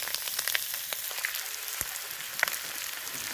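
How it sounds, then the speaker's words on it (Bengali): Meat frying in a pan, a steady close hiss and crackle with scattered sharp pops, moderately loud and without talking. "মাংসটা দিয়ে আমি কষিয়ে নেবো আর ভালো করে মাংসটা কষাবো"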